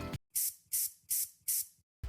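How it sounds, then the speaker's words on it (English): Four short, evenly spaced hissing bursts of makeup setting spray from a pump bottle, close and crisp, with a brief sound before and after. "Get my setting spray."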